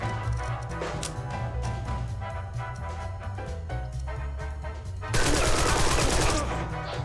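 Bursts of pistol and machine-gun fire crackle through a firefight in the turn-based crime strategy game Empire of Sin, with sharp shots over a steady game soundtrack and a denser, louder volley of gunfire near the end.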